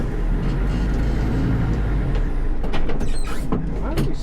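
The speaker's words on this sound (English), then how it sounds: "Why are we stalling out?" A tractor engine stalls out, its steady low rumble continuing before turning into creaks, clunks and rattles near the end as the engine falters close by.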